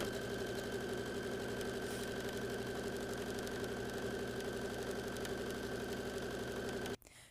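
A sewing machine runs in a fast, even mechanical chatter as it stitches down the edge of a fabric bag strap, close by and without talk, then stops suddenly at the end.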